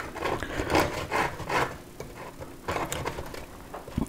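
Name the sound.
serrated knife trimming excess pastry from custard tarts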